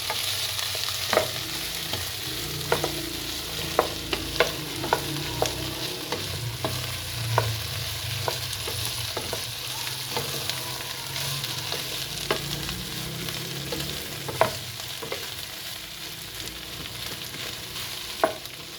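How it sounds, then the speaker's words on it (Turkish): Tomato paste being stirred into venison stew frying in a pot, a soft steady sizzle under repeated light spoon taps and scrapes at an uneven rhythm, close and moderately quiet, without voices. "Şu an salçamı karıştırıyorum."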